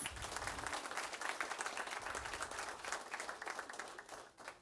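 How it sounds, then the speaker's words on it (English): An audience at a school board of education meeting gives a steady round of applause, dense even clapping throughout that fades out at the end, moderately distant. "Let's give them one more round of applause."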